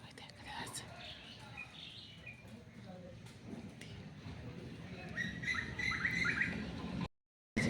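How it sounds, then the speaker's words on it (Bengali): Birds chirp and call outdoors around a rural courtyard on a gloomy, rainy morning, with thin, scattered tweets over a soft wash of background noise and a brief squawk near the end. "কত পাখি ডাকছে দেখেছ?"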